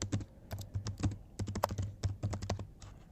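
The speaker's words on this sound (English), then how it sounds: "once you click on it, you can start typing" Fast, steady typing on a computer keyboard, close up, with dense clicks and thumps of the keys running throughout and no one talking.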